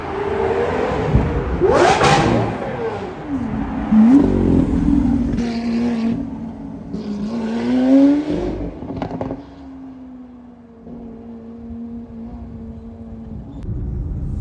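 A Porsche 964 engine revs loudly and repeatedly, pitch sweeping up and down between bursts, then settles into a steady idle-like drone.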